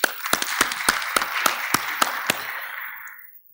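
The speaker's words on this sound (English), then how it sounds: "Let's clap for Mr. House, please." A small audience at an AFRINIC-29 conference session applauds a speaker, with separate sharp claps in an uneven rhythm that slow and die away into silence.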